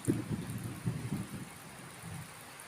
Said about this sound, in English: we have got thunder, lightning, and we've got the rain